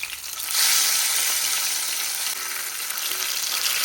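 Fish pieces frying in a generous amount of oil give a loud, steady broadband sizzle that swells after the first half second and stays dense and close throughout, with no voices.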